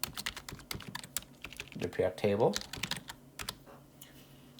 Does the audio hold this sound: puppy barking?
no